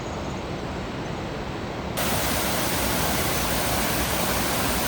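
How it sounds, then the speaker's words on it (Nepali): A Himalayan waterfall on the trek to Kanchenjunga Base Camp roars in a dense, continuous rush of water over rocks, loud and close, swelling sharply after a couple of seconds with no voices. "यहाँनिर चाहिँ झरना देखिरहेको छौँ।"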